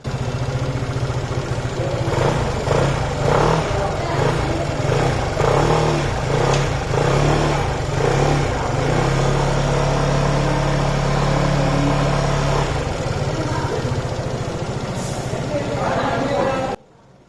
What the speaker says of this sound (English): Now let's hear the exhaust note of this brand new maxi scooter